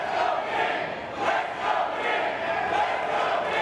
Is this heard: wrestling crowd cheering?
yes